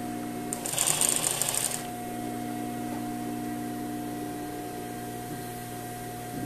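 A sewing machine stitching a tailored sleeve runs in a loud, fast, close burst of about a second, then stops, leaving a steady electrical hum in the room.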